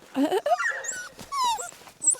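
Puppies in snow whimper and yip in high, wavering squeals, several overlapping cries close by, with a voice speaking softly among them.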